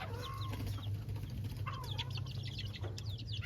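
Tiny Bengal chicks keep up a busy chorus of shrill peeps and soft clucks, near and overlapping, with a steady low hum underneath.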